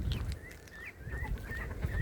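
Ducks calling inside a backyard coop shared with chickens, a string of short raised honking cries repeating over a low rumbling background, moderately near and steady for the whole moment without any talk.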